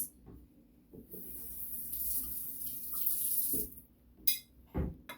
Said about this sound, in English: Wash the surface of a plate.